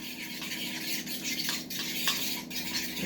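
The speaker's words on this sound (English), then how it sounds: "Stir that up." A spoon stirs a garlic and onion mixture in a hot pan, with light scraping strokes repeated at a fairly even rhythm, close by and alone.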